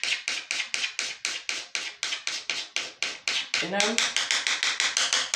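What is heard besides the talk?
scratching painted melamine cabinet surface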